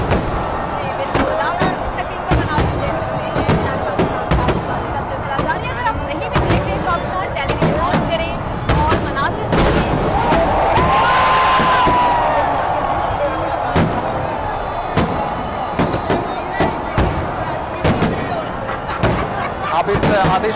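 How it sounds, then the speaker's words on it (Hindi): Independence Day fireworks at Minar-e-Pakistan in Lahore burst continuously in sharp, loud cracks and booms over a dense, roaring crowd that cheers and shouts throughout. "इस आतिशबाजी के साथ लोगों का शोर भी सुन सकते हैं"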